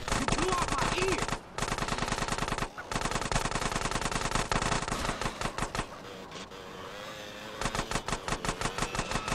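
Rapid automatic gunfire from GTA San Andreas Definitive Edition, loud dense bursts of shots with a couple of brief pauses, a quieter stretch near the end, then heavy firing again.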